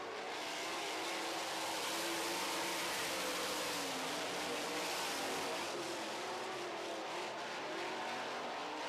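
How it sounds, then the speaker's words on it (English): Sprint car engines roar continuously at high pitch during a heat race, a dense, sustained whine of several cars circling a track, loud and unbroken. "Paul McMahon out of Nashville, Tennessee takes the early lead here in heat number 1"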